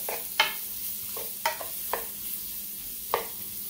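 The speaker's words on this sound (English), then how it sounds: "I'm going to just go ahead and add the shrimps in. And I just want to saute these." Shrimp sautéing in melted unsalted butter, a quiet sizzle broken by several short scraping stirs of a utensil in the pan.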